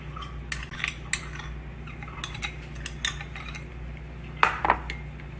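A utensil scrapes and clinks against a bowl while a soy sauce and brown sugar mixture is stirred into honey, giving a few light, scattered taps over a quiet background with no talking.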